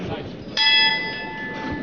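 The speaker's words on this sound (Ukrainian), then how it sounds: "Щойно пролунав гонг." A boxing gong rings out once to start a round at a professional heavyweight bout, its bright metallic tone sounding suddenly and then slowly fading under an ongoing commentator's voice and crowd murmur.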